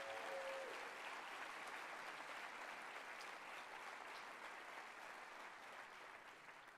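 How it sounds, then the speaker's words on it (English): An audience applauds through a mayor's State of the City address in Cleveland, a steady dense clapping that holds evenly from start to finish and fades slightly near the end, with no talk over it. "Let's give a round of applause if we can."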